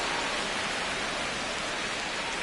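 Rain pouring onto a baseball field in MLB The Show 25 on PC, a dense, even hiss of heavy rainfall that holds steady throughout, with no voices.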